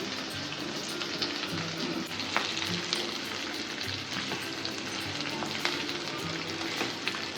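Potatoes fry in a pan for a fasting meal, giving a steady close crackling sizzle with occasional sharper pops and faint stirring scrapes, without any talking.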